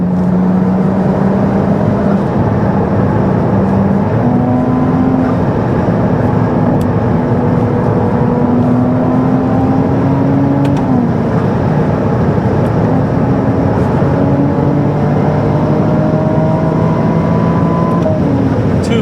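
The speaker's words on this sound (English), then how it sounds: "Does this sound like a V6 to you?" Loud, sustained engine drone of a Ferrari 296 V6 hybrid heard from inside the car, its pitch rising in steady stepped sweeps as it accelerates through gears on the Autobahn.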